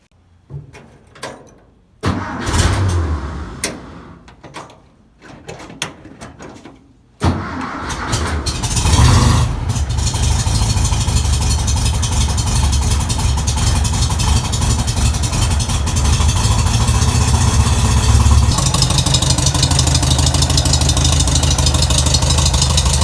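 A VW engine, just repaired for a valve cover oil leak, cranks with a few short bursts and a clunk before catching, then settles into a steady, loud, close idle that runs on alone.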